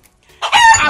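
A chicken lets out a short, loud crow close by after a brief near-silent moment, abruptly filling the end of the clip.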